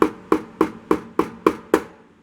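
A hammer lightly taps a cutting strip into a cutter: seven crisp, evenly spaced knocks, close and clear, each decaying quickly.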